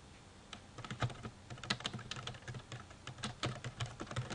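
Steady typing on a computer keyboard while entering a memo, a close, quiet run of uneven key clicks with short pauses and no talking.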